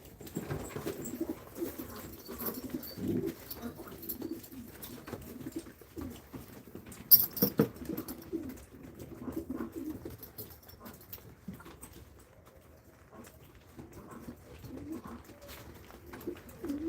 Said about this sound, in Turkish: Güvercinler yer kavgasına tutuşmuş.